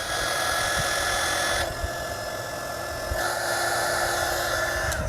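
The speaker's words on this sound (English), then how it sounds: "Bust out that heat gun." A heat gun blows steadily while shrinking heat-shrink tubing on truck LED light wiring, a loud, close, continuous whine and whoosh that shifts pitch briefly midway, with no talking.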